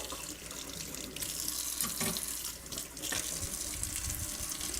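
Water from a kitchen sink tap runs steadily while the sink is washed, a continuous close splashing rush with brief clunks of handling partway through.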